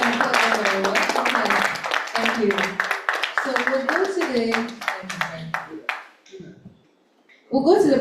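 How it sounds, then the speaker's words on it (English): Audience applause at a Bridge Club special event celebrating leadership, with quick clapping filling the room for several seconds under a speaking voice, then fading to near silence before a brief burst of sound. "Please, we can applaud them. We can applaud them very well."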